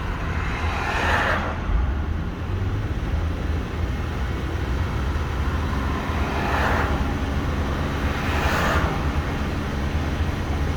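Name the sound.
Holden Calais car engine revving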